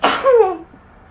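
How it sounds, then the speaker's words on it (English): A woman sneezes once at close range, a sharp burst of air followed by a short falling voiced tail, then quiet room tone. "Oh, sorry, I got to sneeze."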